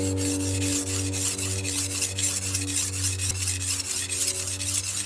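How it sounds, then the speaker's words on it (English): Kitchen knife sharpened on a wet whetstone, a rhythmic series of gritty, scraping strokes repeating steadily back and forth, fairly close, over a constant low hum in the background. "how do you pick your angle when you put that knife on the stone?"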